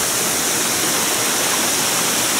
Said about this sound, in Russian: Я забрался тут наверх водопада. Можно посмотреть, как он стекает.